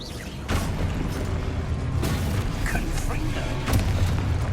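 In the Hogwarts video game, a Confringo spell sets off several heavy booming blasts, one early, one midway and one near the end, with rumbling debris between them and a voice talking over the action.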